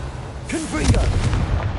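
Confringo blast spell in Hogwarts Legacy, a short booming burst close and loud, overlapping a voice calling out at the same moment.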